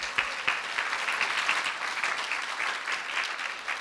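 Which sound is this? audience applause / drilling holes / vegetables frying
audience applause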